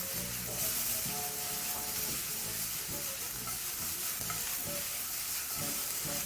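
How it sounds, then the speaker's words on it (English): Carrots sizzle and fry steadily in a frying pan while it is shaken and the pieces are tossed, giving a continuous close hiss broken by repeated stirring and scraping movements. "carrots in, give your pan a bit of a shake"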